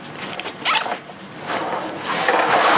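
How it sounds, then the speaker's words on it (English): A zipper runs open along a compartment of a Maxpedition Gearslinger bag, two or three close, raspy pulls rising in loudness, with no speech. "You can just zip this open and those are accessible."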